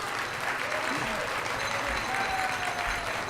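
An audience at a debate applauds to cast a vote, a steady sustained wash of clapping from a crowd in a hall, with faint voices mixed in underneath.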